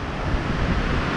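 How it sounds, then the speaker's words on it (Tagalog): Big ocean waves surging during a typhoon, a loud, continuous rumbling wash of surf mixed with buffeting wind noise on the microphone, with no voices. "Kalalaki na ng alon."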